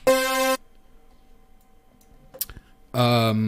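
A layered wavetable synth pad of 16 detuned unison voices, with a second, more detuned 16-voice layer an octave higher, plays two loud, sustained, harmonically rich bursts separated by near-silence and a faint click.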